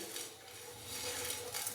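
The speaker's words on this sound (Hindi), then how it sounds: "ज़ीरे और काली मिर्च को हल्का सा हम ड्राई रोस्ट करेंगे" Whole cumin seeds, black pepper and small cardamom dry roasting in a pan, a quiet, steady light rustle and faint crackle with soft metallic scrapes of a spoon against the pan, close and continuous.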